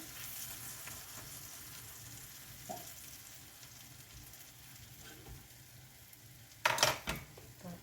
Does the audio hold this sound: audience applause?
no